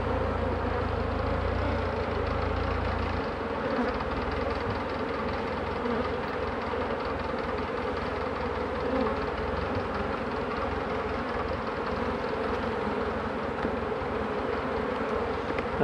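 Honey bees drone around an open hive as a beekeeper works the colony while making artificial swarms, a dense, steady, close buzzing that holds for about sixteen seconds, with no talk.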